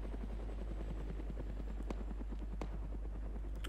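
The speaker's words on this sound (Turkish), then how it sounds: "Helikopter geliyor." Helicopter in the military video game Arma 3, a steady loud rotor drone with rhythmic blade chopping that holds throughout, no talking over it.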